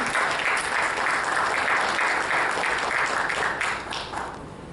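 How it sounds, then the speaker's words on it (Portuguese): An audience at a data visualization talk gives steady, dense applause, a continuous wash of many hands clapping that tapers slightly toward the end. "Vou pedir uma salva de palmas."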